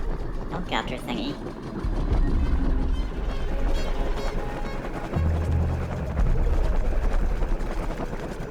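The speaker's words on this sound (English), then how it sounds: "it's another helicopter thingy" Helicopter-like machine in the video game The Midnight Walk, a loud rhythmic low thumping rotor chop that swells and pulses, with a voice talking over it at the start.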